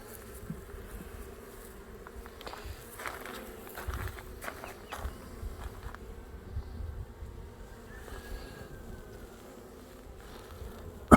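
Honeybees drone around an open hive during an inspection, a soft, continuous buzz close by with individual bees passing near, plus light handling noises and a sharp knock at the end.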